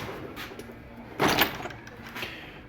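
A top drawer of a mechanic's auto tool box slides open with a brief metallic rolling swish about midway through, set against quiet room hiss, with no talking.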